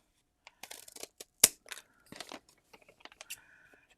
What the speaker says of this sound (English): With a pair of scissors, just take about a little snip out of each corner like this.